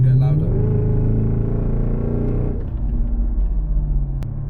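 Supercharged Mercedes CLS55 AMG with a modified exhaust, heard from inside while accelerating: a loud, deep, steady engine drone whose pitch climbs and then settles into cruising rumble.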